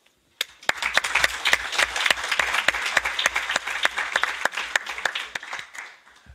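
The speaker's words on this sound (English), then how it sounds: "let's give them a round of applause" An audience at a final event at the European Economic and Social Committee bursts into applause, a dense, steady clapping that swells and then fades out after about six seconds.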